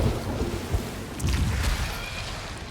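Deep rumbling blasts of fireworks explosions in a video game, a continuous low booming roar with scattered crackles, loud and alone without talk.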